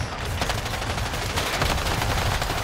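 Sustained enemy gunfire in the video game Predator Hunting Grounds, a dense, continuous rattle of rapid shots that stays loud and steady throughout.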